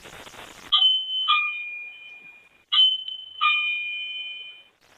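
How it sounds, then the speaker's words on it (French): A toy house doorbell chime rings twice in a row, each a bright two-note ding-dong, sounding close and clear with quiet gaps between. "je pense que c'est la sonnette de la maison"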